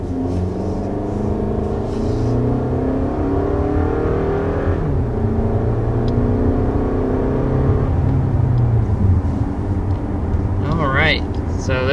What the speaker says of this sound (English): So there's our first acceleration with the XSE Camry